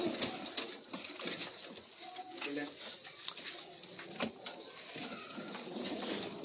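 Pigeons cooing in a rooftop loft, soft murmured coos mixed with fluttering and scuffling close by, while people talk over them throughout.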